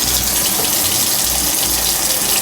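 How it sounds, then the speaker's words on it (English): Cold water runs steadily from a kitchen tap into a pot for washing pork bones, a loud, continuous close rushing gush with no voices. "Let's put some cold water over here."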